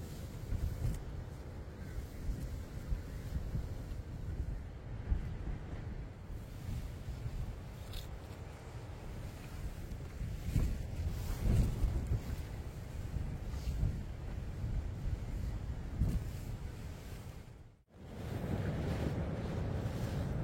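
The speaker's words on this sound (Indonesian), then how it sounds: "Dan makin kesini itu anginnya makin luar biasa, besar banget." Strong wind roars and gusts steadily around an exposed spot, a loud, rumbling, buffeting rush with heavy microphone wind noise and a brief lull near the end.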